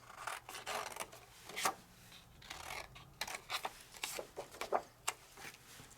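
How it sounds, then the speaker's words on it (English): Scissors snip through paper to cut out small craft wings, a run of close, soft crisp cuts and rustling paper with short pauses between strokes. "I'm going to cut my little wings"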